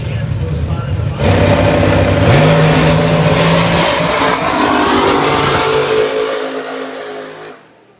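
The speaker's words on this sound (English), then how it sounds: "looks like the nitro car got out there" A nitro-burning funny car roars down the drag strip at an outlaw fuel altered meet at Texas Motorplex, its loud engine blasting and rising in pitch for several seconds before cutting off, with crowd noise beneath.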